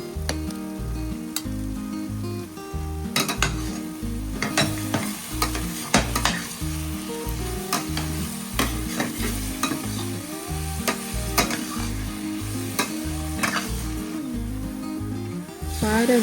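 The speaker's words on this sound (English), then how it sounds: "In another pot, I had oil and started frying plantain with palm oil" Plantain frying in palm oil in a pot, a continuous loud sizzle broken by repeated stirring scrapes and clinks of a utensil against the pot.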